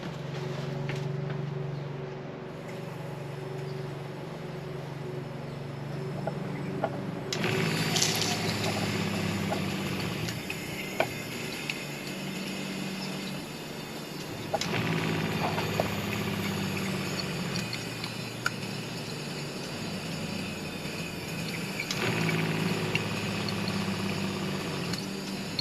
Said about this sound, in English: I'll turn the tap on quite slowly and listen to hear what the pump does just by turning the tap on slowly.